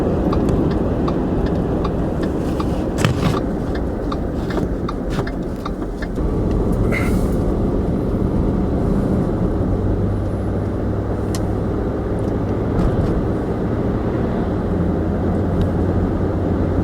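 A truck engine runs steadily and loud nearby as the vehicle drives and turns around, with some brief hiss and clatter early on and a low steady drone throughout.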